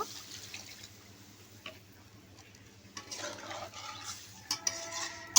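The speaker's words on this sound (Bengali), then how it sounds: "এই পর্যায়ে আমি এর ভিতরে দিয়ে দিব পানি।" Water is poured into a pan of shing fish curry, a soft swirling wash that builds in the latter half, with faint stirring clinks and drips close by.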